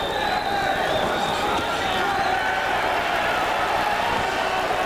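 Steady crowd roar from a boxing arena during a 1987 bout between Bobby Czyz and Jim MacDonald, a broad continuous wash of excited voices at even loudness throughout with no clear peaks.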